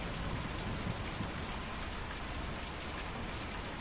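Steady rain falls in the video game Kentucky Route Zero, a dense, even hiss of drops hitting surfaces throughout, alone and without talk.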